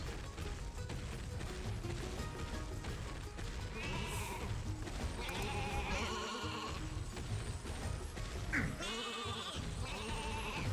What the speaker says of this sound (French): Ah, c'est des caisses de moutons.